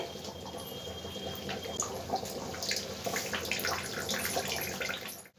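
Mung and masoor dal cooking with a fish head, simmering in a pot with a steady, close bubbling and wet seething hiss that carries on evenly for several seconds, with no talking.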